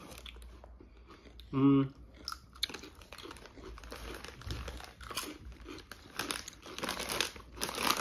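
Someone eats crunchy sweet potato chips: a crinkling bag rustles, then loud crunching and chewing bites come up close, while people talk over them.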